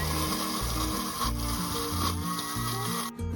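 A Thermomix TM6 blends shallots, garlic and red chilies at speed 10, giving a loud, continuous grinding whir with shifting pitch that cuts out abruptly just before the end.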